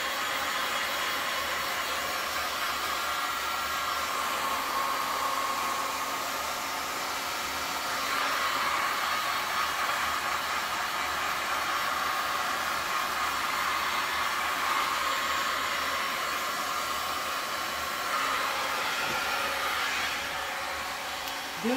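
A hair dryer blows silver stone coat base tint across poured resin on a sink strainer, a constant close whooshing drone that swells slightly louder midway and holds steady for the whole stretch.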